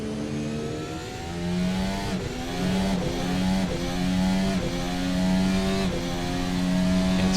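A race car engine revs hard through repeated gear shifts as it laps the Sepang circuit, with rising harmonic whines that break at each upshift, loud and steady throughout.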